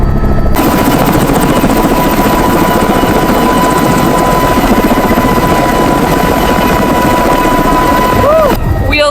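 A small plane landing at Lukla Airport gives a loud, constant engine roar throughout, cut off abruptly near the end, with a faint tone sweep as the engine winds down.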